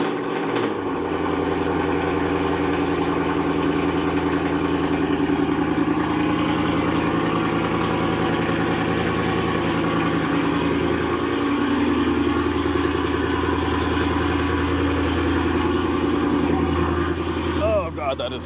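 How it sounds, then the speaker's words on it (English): A Ford Mustang GT S650 V8 runs after a cold start inside an enclosed space with its exhaust valves open, a loud, steady, deep rumbling idle that continues throughout and drowns out everything else. "we'll get one last cold start. It's probably gonna blow my ears out because we're in here. I opened the valves"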